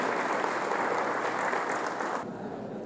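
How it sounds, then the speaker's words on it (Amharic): A church congregation claps in a dense burst of applause that cuts off abruptly, leaving a quieter room tone. "እስቲ ለእግዚአብሔር ቃል ክብር አጨብጭቡ"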